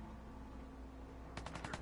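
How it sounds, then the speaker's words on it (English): Burst of gunfire in Fallout 4 breaking out near the end after a steady low ambient hum, several rapid sharp shots in quick succession at moderate distance. "someone's shooting at someone"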